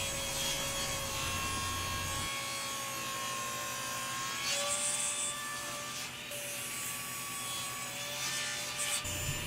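A saw crosscutting wood pieces to exact length on a crosscut sled, a steady loud whine running continuously with a slight change in pitch partway through, no voices.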